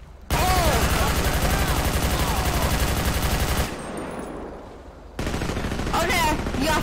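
Sustained automatic gunfire in GTA V with the LSPDFR police mod, loud continuous bursts that pause briefly and then resume, with voices mixed in among the shooting.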